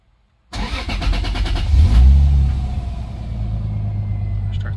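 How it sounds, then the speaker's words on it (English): A turbocharged Lexus IS300 NA-T engine cranks and catches after a moment of silence, flaring loudly before settling into a steady, rumbling idle, close by. "I'll go ahead and start the car."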